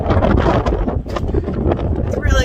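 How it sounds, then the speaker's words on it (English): Strong wind buffeting the microphone atop Glastenbury Tower on a mountain summit, a loud continuous rumbling roar with gusty surges throughout. "It's really windy if you stand up."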